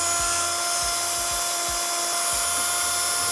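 Slow drilling into metal on a Yamaha V-Star 1300 bobber motorcycle, a steady high whine from the drill with regular low thumps as the bit bites, close and constant.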